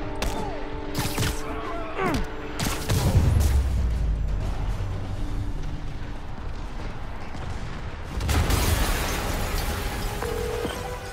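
A loud explosion in the Spider-Man video game, with broad booming bursts around three seconds and again near eight seconds, over mechanical clatter and rumbling game ambience.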